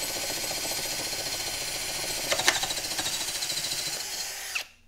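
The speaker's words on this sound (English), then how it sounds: "We're going to try to get through this number 10 Spax fastener." A power drill with a Bosch nail strike bit and 3/4-inch bit drives a No. 10 Spax screw, a steady close high-pitched whir running continuously, briefly straining midway, then cutting off abruptly at the end.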